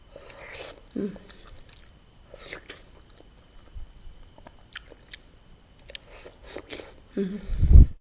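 Close, soft chewing and biting of fruit such as apple, guava and grapes, with moist squishy bursts between quiet pauses and a louder crunchy bite at the end.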